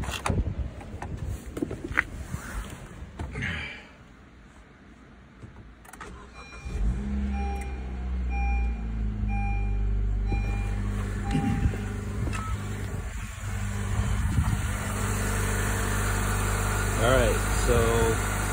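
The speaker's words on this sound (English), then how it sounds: "we're gonna start the engine and see what happens." A car engine cranks for a few seconds and then catches, settling into a steady idle that runs loudly to the end, with a battery tester in use and a voice talking early on.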